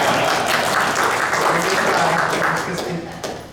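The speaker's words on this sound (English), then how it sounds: "Time for applause." Dense audience applause at a city council meeting runs steadily, with voices mixed in, before easing off at the end.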